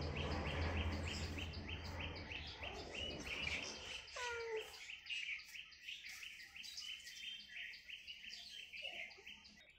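Bulbuls and mynahs call at a garden bird feeder: a dense run of chirps and tweets fills the first few seconds, then sparser calls continue over a quiet background.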